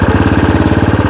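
A Bullet motorcycle engine idles loud and close, giving a fast, even, thumping chug that stays steady throughout.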